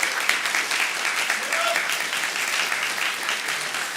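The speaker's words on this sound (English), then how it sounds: "Can we please give a round of applause for my co-director, Caleb Chadwell" Audience clapping at an evening panel on the Supreme Court and administrative law, a moderate round of applause lasting a few seconds, with a voice faintly audible under it.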